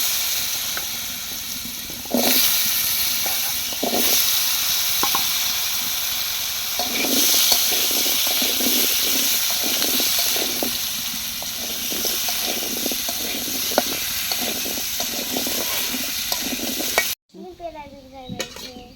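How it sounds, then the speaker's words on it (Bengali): Potatoes fry in hot oil with a loud, continuous sizzling hiss, broken by repeated scraping stirs of a utensil in the pan, which cuts off abruptly near the end. "তো ওই তেলে ভেজে নেবে আলু"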